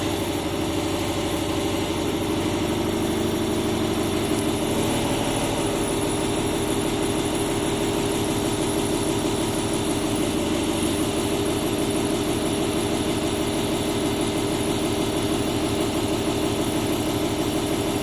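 A DC shunt motor coupled to a DC shunt generator runs on a lab bench during a regenerative test, giving a steady, loud mechanical hum and drone with a fine whine that holds unchanged throughout, with no talking.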